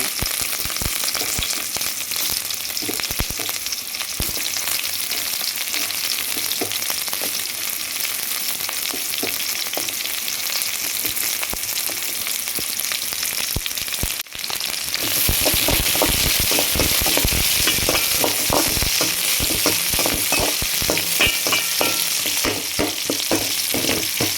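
Fennel seeds and onions sautéing in oil in a kadai for an egg kurma, a steady close sizzle with scraping stirs that grows louder and denser about halfway through.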